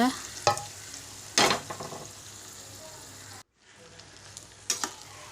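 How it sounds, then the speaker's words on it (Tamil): Mustard seeds, a dried red chilli, curry leaves and shallots crackle and sizzle in hot oil in a pan for a Kerala-style pumpkin erissery, with sharp stirring clatters, a brief silent gap, then renewed frying. "ஒரு சட்டியை வச்சு எண்ணெய் ஊற்றி கடுகை போட்டுக்கோங்க. அப்புறமா ஒரு வரமிளகா போட்டு கருவேப்பிலை போட்டு சின்ன வெங்காயம் கட் பண்ணி போட்டு தாளித்து கொட்டிக்கோங்க"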